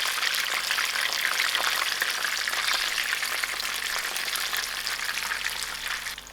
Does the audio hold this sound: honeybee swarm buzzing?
no